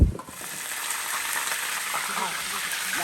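Meat sizzling on a grill, a steady close hiss of frying fat with faint crackles throughout, alone after a brief knock at the start.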